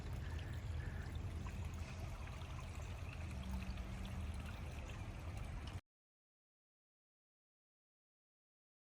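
A clean forest stream with a small island in the middle flows in a steady, close, continuous wash of running water, with no talk, before cutting to silence after about six seconds.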